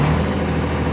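A Unimog FLU419 diesel engine idles up, a loud, steady low rumble heard alone and close for about a second.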